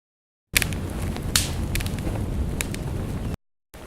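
Bubble wrap crackles and snapping branches combine into a fake fire effect, heard alone as a dense bed of close crackling punctuated by a few sharper, louder snaps over about three seconds.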